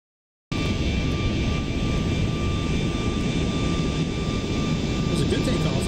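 Jet airliner engines roar at full takeoff power in the Aerofly FS Global flight simulator, a steady, dense, broadband rush with a faint whine that starts abruptly and holds loud and even throughout.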